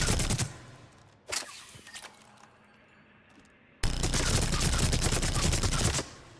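Heavy recoiling gun firing in Mass Effect 3, heard as a short burst, then after a pause a dense, loud stretch of rapid fire lasting over two seconds.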